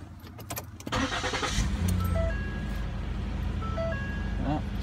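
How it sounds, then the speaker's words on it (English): A Ford Explorer engine cranks and starts, then settles into a steady idle close by, with the running engine holding loud and constant under the cabin. "let's turn the car on, see what that does."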